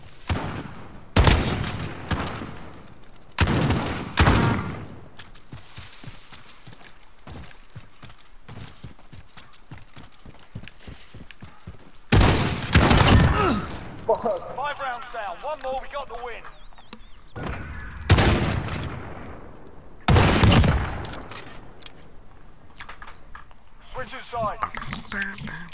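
Video-game gunfire comes in sharp, loud bursts and rapid volleys, with quieter clicks and rattling between shots.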